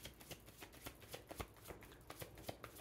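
A tarot card deck is shuffled by hand, a quick run of soft, rhythmic riffling flutters heard close and quiet with no talk.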